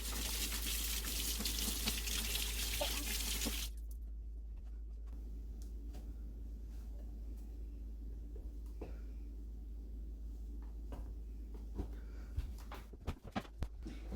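A tap runs with a loud, steady rush of water for a few seconds, then shuts off, leaving a quieter room with soft clatters and a few small knocks.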